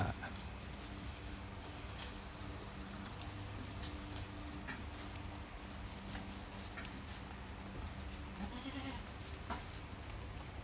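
Several dairy goats, including Toggenburg and Saanen breeds, bleat now and then over a constant farmyard background, their calls moderately distant and overlapping.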